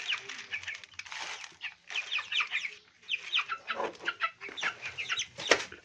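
Backyard chickens clucking continuously at close range, a busy overlapping chorus of short clucks and calls with no speech.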